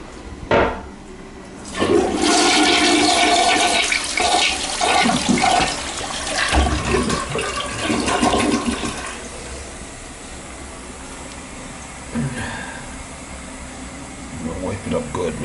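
A leaking toilet tank flushes with a loud rush, then slowly refills with a steady hiss of trickling water. Speech is heard briefly at times.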